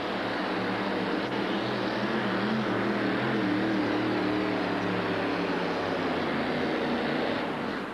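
Dragster engine at a 1989 USHRA event in Orlando makes a steady, loud, droning roar through a full pull, holding a constant rumble across eight seconds.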